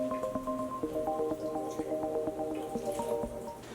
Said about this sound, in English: the water is coming directly out of the drainage holes